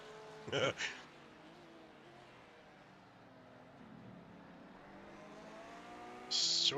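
Race car engines drone and shift in an iRacing sim race at Daytona, a Lamborghini chasing a black and white Porsche, with steady engine tones, brief harsh bursts near the start and end, and a voice commentating over them.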